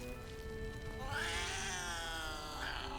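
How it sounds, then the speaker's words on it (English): A cat in the Baldur's Gate 3 video game lets out drawn-out, wavering meows and a caterwauling yowl, two rising cries close and clear over a low game soundtrack. "Alright, Harper Boar, His Majesty, that's a cat, okay."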